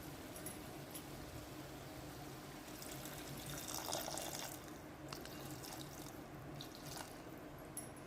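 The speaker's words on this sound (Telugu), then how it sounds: "ఇప్పుడు కూరకు సరిపడా నీళ్ళు వేసుకొని" Water pours steadily into mutton curry with drumstick pieces in a pressure cooker, a continuous splashing, running stream heard close up with no talking.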